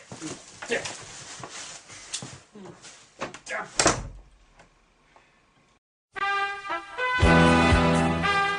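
A door bangs shut with a sharp thump amid a cartoonish villain's lair scene, followed by a burst of loud tonal sound; voices are present around it.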